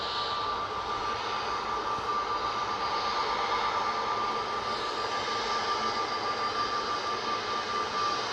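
An EasyJet airliner taxiing toward the runway at Manchester Airport at sunset, heard as a steady, moderately distant jet engine whine and rumble with a constant high tone, continuous and without talk.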